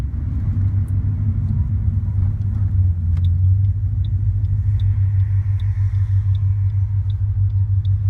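A supercharged 550-horsepower Mustang GT with a manual gearbox rumbles loud and close with a deep, steady engine drone and little change in pitch, while faint regular ticks sit above it.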